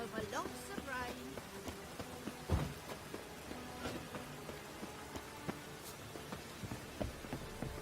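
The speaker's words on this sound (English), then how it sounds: "Lots of fuss over lots of rain." Steady rain patters across surfaces with scattered heavier drops and splashes, a dense continuous hiss with occasional sharper hits, in The Witcher 3.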